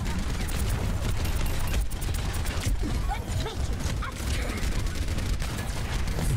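Rapid gunfire from an Overwatch match fills the scene, a dense continuous barrage of shots and clattering effects running throughout with occasional voices mixed in.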